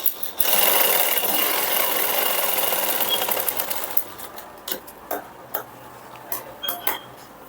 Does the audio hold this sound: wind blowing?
no